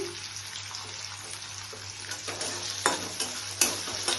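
Chopped tomatoes and green chillies frying in a pan for a paneer curry, giving a close, steady sizzle with a few stirring scrapes and knocks toward the end.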